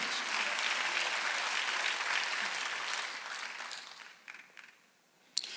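A church congregation applauds during a Sunday worship service with sustained clapping that fades out toward the end, leaving a few scattered claps and one sharp final clap.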